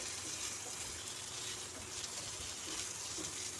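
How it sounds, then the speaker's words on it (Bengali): Eggplant pieces fry in a pan, a steady faint sizzle and crackle with soft stirring underneath, no voices. "চারিদিক উল্টে পাল্টে ভেজে নিচ্ছি"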